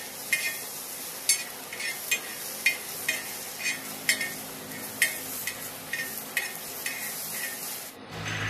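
Chickpeas are stirred while roasting in a dry pan, giving a quiet scraping rub with soft periodic strokes about once a second, fairly close, with no talking.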